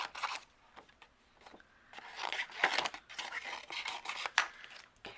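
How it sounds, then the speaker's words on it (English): Scissors snip through paper cardstock while fussy cutting around small stamped lovebirds, a faint, close series of irregular crisp cuts with soft rustling and scraping between them, and no talking. "take our scissors and fussy cut our two lovebirds out"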